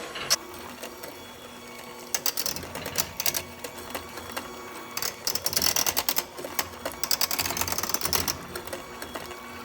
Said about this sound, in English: I'm going to use an electric mixer because it saves time.